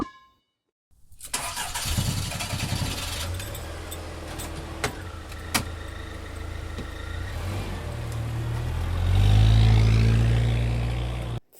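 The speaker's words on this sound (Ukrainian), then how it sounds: "Впізнали, це їде машина." A car engine rumbles up and grows into a loud, sustained drive, swelling toward the end before cutting off abruptly, with a few clicks and rattles scattered throughout.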